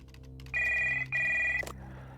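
An old telephone rings twice inside the Stories Untold video game, two sustained bright electronic trills separated by a short gap, fairly loud against a low hum, ending with a click.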